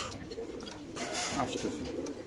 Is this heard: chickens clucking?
no